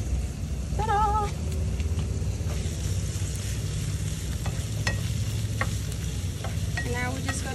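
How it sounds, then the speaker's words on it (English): Onion and peppers fry in a pan with a steady, soft sizzle throughout, punctuated by occasional stirring clicks and a couple of brief meow-like squeaks in the background. "Love the sizzle."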